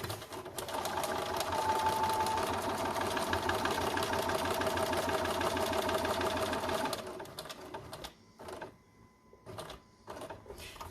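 A domestic sewing machine stitches a concealed-carry belly band in a steady, fast mechanical whir for about seven seconds, then stops, leaving brief short bursts of running and pauses; close and fairly quiet, with no talking.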